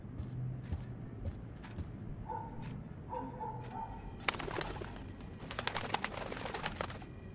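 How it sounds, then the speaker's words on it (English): A bird in the video game Life is Strange coos and calls softly over a low ambient hum, followed by a busy flurry of fluttering, flapping wing sounds. "let's scare the bird and see if we can get it out of here"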